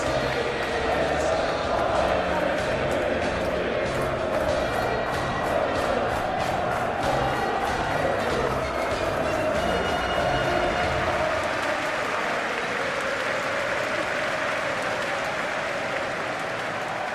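A video game stadium crowd in a PES 21 football simulation of Chelsea versus Tottenham Hotspur roars and applauds in a steady wash of cheering, with commentators talking over it throughout before the crowd noise thins toward the end.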